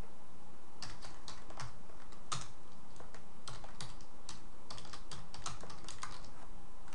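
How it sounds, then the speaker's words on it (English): Keys on a computer keyboard clack in quick irregular bursts with short pauses, crisp and close against a quiet background, with no voices. "if we type in here"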